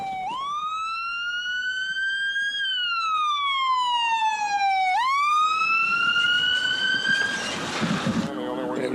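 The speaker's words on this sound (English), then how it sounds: "Ambulance is coming, man." An ambulance siren wails close by in long rising and falling sweeps, loud and steady, with rougher noise and clatter creeping in near the end.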